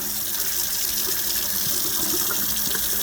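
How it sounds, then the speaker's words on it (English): Tap water runs steadily through the opening of a chinchilla cage tube being rinsed out in a sink, a continuous close splashing rush with no talking. "We're going to run water both directions here through the opening of the tube."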